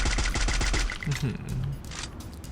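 Rapid bursts of gunfire from a Free Fire match, loud and clustered in the first second, then sparser shots with game sounds continuing behind.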